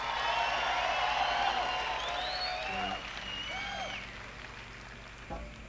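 Audience at a live concert in Jamaica in 1982 applauds steadily, a dense wash of clapping that thins out toward the end, with a few whoops mixed in.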